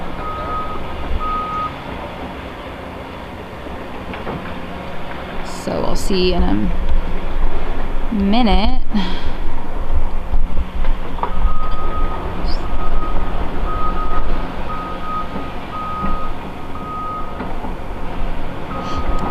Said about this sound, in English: These sheriffs trucks are backing out